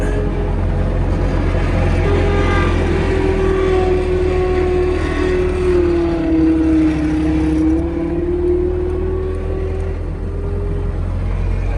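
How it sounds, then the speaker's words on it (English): Running Bobcat loader heard from the cab, a loud steady engine drone with a tone that dips and rises in pitch as the machine works, continuous throughout with no voices. "I'm in the Bobcat driving it with my elbow again"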